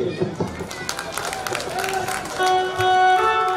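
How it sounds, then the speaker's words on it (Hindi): Festival audience applauding at a live stage show in Khariar Road, dense clapping running steadily under music and a voice, swelling louder near the end. "और एक ताली मेरे प्रेम भाई और पूरी टीम के लिए"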